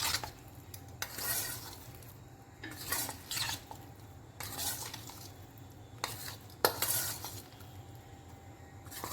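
Soya chunks are tossed with flour in a metal bowl for homemade soya chilli, with repeated scraping and clinking of a spoon against the bowl in irregular bursts, close and moderately loud.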